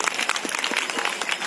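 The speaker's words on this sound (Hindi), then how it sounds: "इस रंगारंग प्रस्तुति के लिए एक बार जोरदार तालियों से" A crowd claps enthusiastically, a dense burst of steady applause with no voices standing out.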